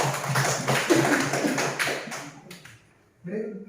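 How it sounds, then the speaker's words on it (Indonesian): Classroom hand clapping: a quick, fairly regular series of claps under a teacher's voice, fading out, with a short burst of speech at the end. "Tepuk tangan."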